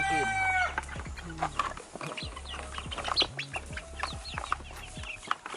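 Chickens clucking and a rooster crowing around an outdoor breakfast cookfire on a farm in Jamaica, with several overlapping calls at close range over a steady low hum.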